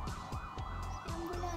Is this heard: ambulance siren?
yes